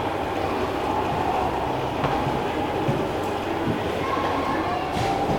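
A train rumbles along steadily at a railway museum in York, its wheels clattering over the rails in a continuous close roar with faint squeals.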